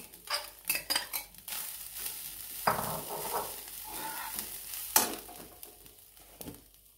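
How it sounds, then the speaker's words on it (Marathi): Grated colostrum drops into a hot kadhai with a sharp sizzle, then a metal spoon scrapes and clinks against the pan in irregular stirring strokes, with occasional louder knocks, close up and without speech. "आता आपण कढई तापत ठेवली होती, त्याच्यामध्ये आपण हा सर्व किसलेला चिक टाकून घेणार आहोत."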